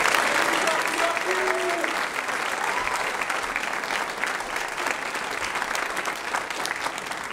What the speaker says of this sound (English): Give the group a round of applause.